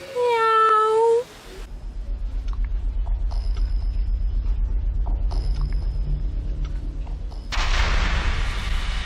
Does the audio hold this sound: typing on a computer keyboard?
no